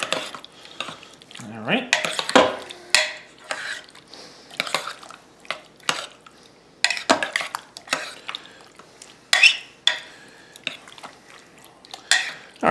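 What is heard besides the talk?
spoon stirring cheese and salsa together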